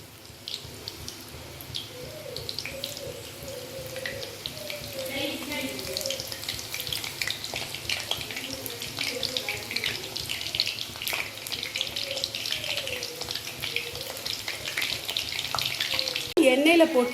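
Soya chunks fry in hot oil with a continuous, moderately quiet sizzle and crackle that lasts throughout, with faint background sounds over it.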